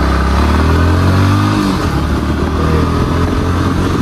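Bajaj Pulsar NS200 motorcycle engine firing up and settling, loud and close, its low rumble rising and shifting as the bike pulls away, with no talking.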